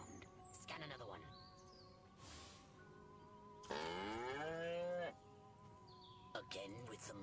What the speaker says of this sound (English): Again with the moo. I think these lactating bovoids are trying to fool us.